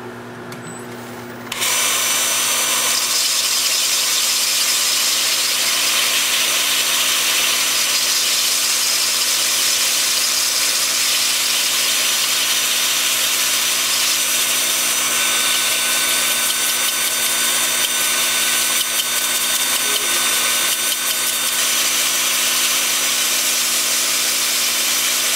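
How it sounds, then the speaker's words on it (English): A wood lathe spins a bowl at about 310 RPM while 80-grit sandpaper is held against it, producing a loud, continuous, steady whirring hiss that starts abruptly and runs unbroken. "Got the lathe spinning at about 310 RPM. I'm starting at 80 grit."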